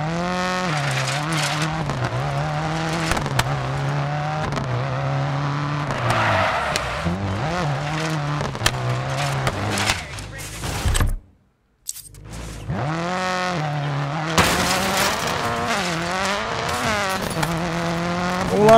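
A rally car in the racing video game DiRT 4 drifts and skids. Its engine drones and revs over continuous tire squeal, broken by a brief silent gap midway.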